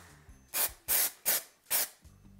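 Four short bursts of an aerosol can of temporary copper hair color spray hit locs, each a loud, close hiss lasting about a quarter second, separated by brief pauses.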